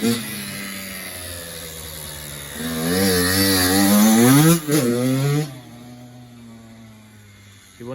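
A Kawasaki KX85 dirt bike ridden around a yard, its engine buzzing and revving up to a strained high whine, then dropping back to a lower idle-like drone, loud and close.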